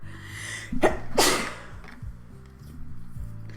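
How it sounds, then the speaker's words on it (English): A person sneezes twice in quick succession, close and sharp, over a soft background of low music. "I have to sneeze."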